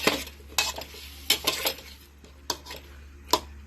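Bottle gourd stirred in a cooking pan, with a utensil knocking and scraping against the metal in irregular close clinks and scrapes over a low background hum, and no voices.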